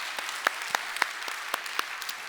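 A church congregation claps during a Sunday service, a light, scattered patter of individual hand claps at moderate distance with no talking over it.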